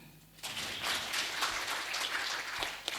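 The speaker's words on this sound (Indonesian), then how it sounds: "Tepuk tangan." Applause from an audience at a mosque management work meeting starts suddenly and swells into a sustained wash of many hands clapping, steady and moderately loud for a few seconds.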